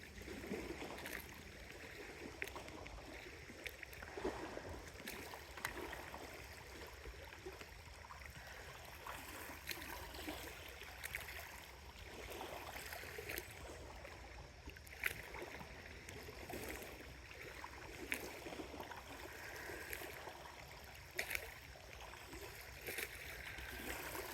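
Water flows and trickles steadily outdoors with occasional small splashes, a soft continuous wash with no talking, with birds nearby.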